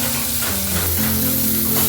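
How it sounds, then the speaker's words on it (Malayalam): Fish curry bubbling and sizzling steadily in a clay pot, a continuous close, moderately loud simmer with crackling frying texture throughout and no talk. "തിളപ്പിക്കുന്നത് മണ്ണിൻ്റെ ചട്ടിയിലേക്ക് തിളപ്പിക്കാം"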